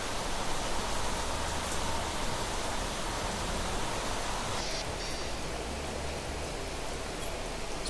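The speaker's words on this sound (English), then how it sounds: "Wow, it is raining outside." Steady rain falls in the Planet Crafter video game, a dense, even hiss of pouring water that continues unbroken throughout with no other sounds.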